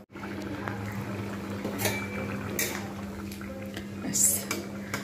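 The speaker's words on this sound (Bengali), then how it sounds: "এবার আমি এটাকে ঢাকনা দিয়ে বেশ কিছুক্ষণ ফুটিয়ে নেব" A covered pot of bitter gourd and potato simmers over medium heat with a low steady bubbling hum, with faint clinks and a lid rattle now and then.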